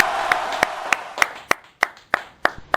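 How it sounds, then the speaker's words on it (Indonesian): Sparse, evenly spaced hand claps, about nine sharp claps in a steady rhythm, ringing in a room after a martial arts belt-level demonstration by student athletes; the first clap sits over a brief hum. "beri tepuk tangan untuk"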